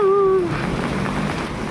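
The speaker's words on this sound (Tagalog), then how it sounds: "Kunting ulan. Kunting baha." Light rain falling on a street during an evening storm with lightning, a steady soft patter of drops close by, preceded by a brief tonal whine at the start; no talking over it.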